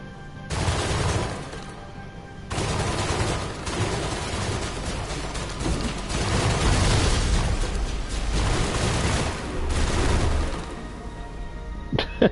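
Combat in Mass Effect Legendary Edition brings repeated loud bursts of gunfire and booming blasts, coming in dense volleys with brief lulls over about twelve seconds.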